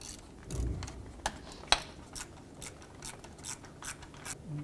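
A ratchet snugs up condenser bolts on a 1997-2001 Lexus ES300, giving faint, sparse clicks and a few sharper ticks close by in a quiet workspace.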